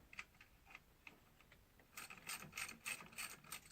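A ratchet loosens the lock bolt on an oil pressure sensor of a 2001 Subaru Forester. Quick, close pawl clicks come in short bursts, sparse at first and then a denser run of rapid clicking.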